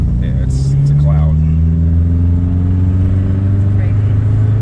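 A Mercedes 190e engine, running on a new battery, hums low and steady from inside the car while driving, a loud continuous drone with faint voices briefly heard over it.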